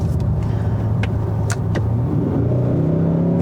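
A Hyundai Sonata N-Line sedan, the 2021 model with nearly 300 horsepower, pulls hard under full throttle from a launch, its engine droning loud and steady with a few quick shifts and no voices over it.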